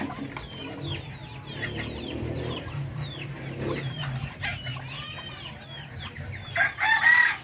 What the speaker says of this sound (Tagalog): Darag rooster po mga Pinoy yan.